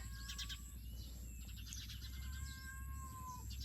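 A hungry cat meows faintly in a backyard bamboo shoot garden, its short calls sitting against steady outdoor background noise with bird chirps mixed in.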